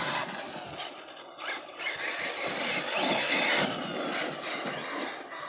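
A Losi LST 3XLE RC monster truck on 6S 50C batteries runs in low gear, its electric drivetrain giving a steady rasping whine with gravelly rubbing that swells and eases over the stretch, with no talk.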